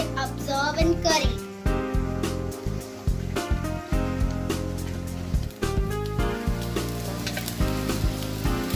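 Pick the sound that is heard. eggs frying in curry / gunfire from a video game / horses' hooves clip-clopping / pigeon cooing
eggs frying in curry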